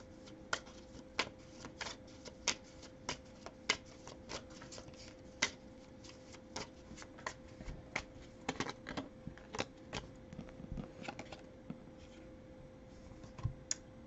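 Tarot cards are shuffled and drawn in quick, close, sharp flicks and riffles, a steady run of crisp taps with no voice.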